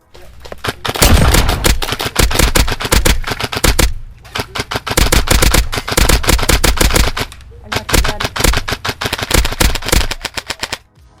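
Bursts of rapid airsoft gas blowback gun fire, three long strings of fast, loud mechanical shots separated by short pauses, close to the listener.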